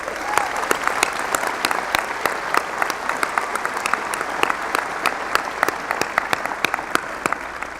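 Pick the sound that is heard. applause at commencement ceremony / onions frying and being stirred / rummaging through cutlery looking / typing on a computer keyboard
applause at commencement ceremony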